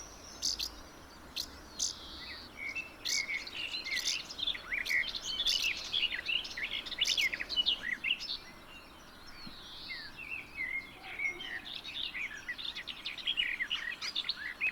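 A fledgling blackbird just out of the nest gives high, thin chirping calls in quick bursts, with other birdsong and a steady insect-like trill in the background outdoors.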